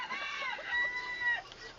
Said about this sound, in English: This is the chicken that was raised by the really old hen.